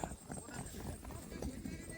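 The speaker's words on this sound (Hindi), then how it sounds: "हे नवाब भाई चाकी, इस तरफ हाजी भाई, उसके भाई, सभी घोड़े लेके अभी आ चुके हैं।" Horses' hooves clip-clop at a walking pace as they arrive at a horse race in Hodka, Kutch, beneath steady talk and crowd noise, faint and somewhat distant.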